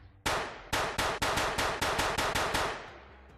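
Gunshots in a VR gun range game built in Unreal Engine 5: about eleven sharp, loud reports in a steady semi-rapid rhythm, each ringing briefly before the next, then trailing off into quiet.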